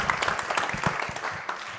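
Audience applause at a French interview event about rugby, a dense patter of clapping filling the short stretch at moderate loudness with no clear voices on top.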